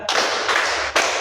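A group claps hands in a counted rhythm. Three loud, evenly spaced, broad claps ring out close by, with no talk over them.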